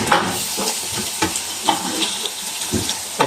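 Tomatoes go into a pan of browned onion and ginger paste for rajma masala, raising a continuous close sizzle broken by scraping stirs and clinks of the spoon against the pan, with no talk.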